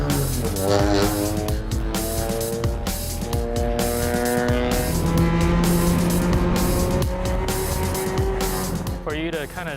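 A race car laps a track, its engine loud and close as it climbs through the gears again and again with rising, falling revs and brief shifts in between.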